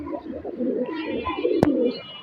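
Pigeons coo softly while bathing, a low continuous murmur with a sharp click partway through.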